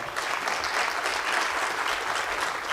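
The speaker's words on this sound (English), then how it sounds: "We can give him a round of applause, why not?" An audience at a fireside chat with energy and environment officials breaks into steady applause, a brief, even burst of many hands clapping at moderate loudness.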